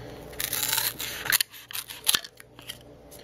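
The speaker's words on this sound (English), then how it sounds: "So I'm gonna cut out little boat from this foam" Foam being cut into a small boat shape for a soap-powered mini boat gives a string of short crisp snips and scraping cuts, close and alone with no talking.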